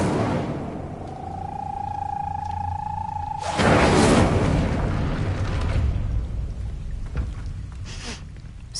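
An Incendio fire spell in Hogwarts Legacy erupts with a loud whooshing burst that follows a rising magical tone, then a roaring crackle that slowly fades.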